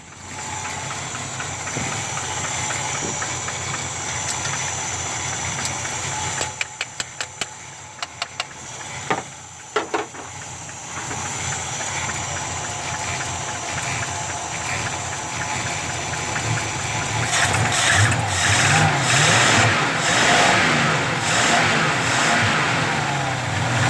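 A car engine with a poorly working choke runs unevenly for a long stretch, sputtering and knocking at times, then rising into louder revving toward the end.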